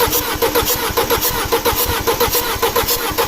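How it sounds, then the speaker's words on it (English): A 2006 Audi A4 2.0T FSI with a misfire cranking: a fast, rhythmic starter churn with regular pulses, loud and close, with no voices. "from cranking the engine"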